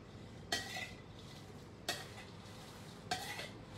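Chillies dry-roasting in a pan for chopped fermented fish: three separate scraping, clattering strokes of a utensil against the pan, roughly a second apart and fairly faint, with no voices.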